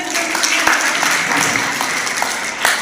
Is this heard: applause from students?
yes